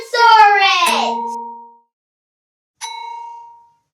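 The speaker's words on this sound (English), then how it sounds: "That's his phone!" A telephone rings during a stage play performance: a loud, ringing, chime-like tone that fades out, then a second, shorter ring after a pause of silence.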